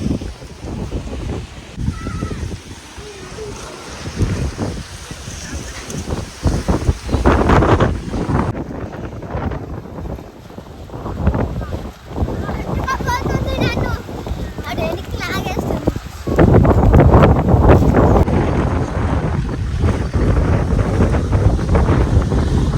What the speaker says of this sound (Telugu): దుమారం మాత్రం మామూలుగా రావట్లేదు.